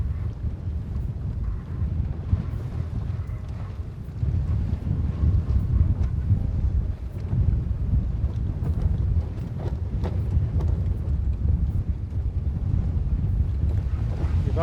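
Sailboat heeling under sail at about 5 knots on Sydney Harbour at twilight, heard as steady loud wind buffeting the microphone with low rushing water and hull noise throughout, no talk.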